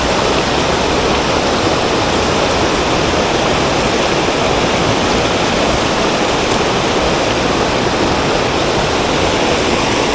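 Waterfall on a trekking trail near Amatrice, a loud, steady roar of rushing water filling the whole stretch, close and continuous with no voices.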